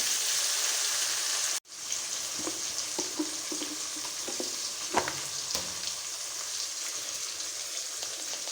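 A large tomato frying in a pan for wedding-style chicken curry gives a loud, steady sizzle that cuts out briefly, then resumes with soft stirring clinks and scrapes.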